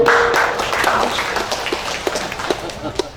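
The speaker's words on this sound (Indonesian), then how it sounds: "Itu kita harus tepuk tangan dulu dong." A room of listeners claps at a church community gathering, a steady wash of applause throughout that thins slightly toward the end, with a voice briefly audible over it.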